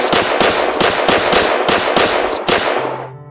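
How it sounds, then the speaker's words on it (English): Gunfire from a low-budget movie scene where a man is shot: a steady rapid series of about seven loud, sharp bangs at an even pace, ending abruptly with a short fading tone. "So Tenpence gets the gun and shoots the UPS man"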